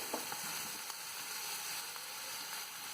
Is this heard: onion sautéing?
yes